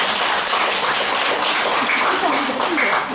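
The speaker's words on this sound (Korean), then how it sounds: "이런 특창을 자주 하라고 우리 박수 한번 하시겠어요?" A church congregation claps after a special song, dense, even applause filling the room at full strength for several seconds, with no talking on top.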